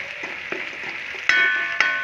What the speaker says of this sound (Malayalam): ഇഞ്ചിയും വെളുത്തുള്ളിയും കൂടി ഒന്ന് വാട്ടിയെടുക്കുവാണ്